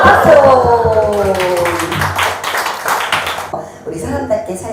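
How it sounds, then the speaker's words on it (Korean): At a seminar gathering, an audience claps in short rhythmic bursts under a voice and tonal background, the claps thinning out and fading toward the end. "박수."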